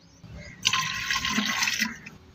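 Water poured into an organic fertilizer solution for rose plants, a steady splashing fill lasting under two seconds, close and moderately loud, rising sharply and then tapering off.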